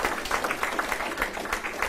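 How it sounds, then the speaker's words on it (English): An audience at an Army promotion ceremony applauds, a brief run of dense, steady clapping from many hands, moderately loud throughout. "how about a round of applause for"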